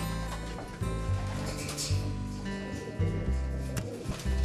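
Racing pigeons coo in a loft, soft repeated low coos and some scattered wing and perch noises, fairly close and without talk.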